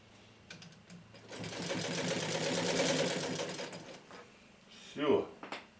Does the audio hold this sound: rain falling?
no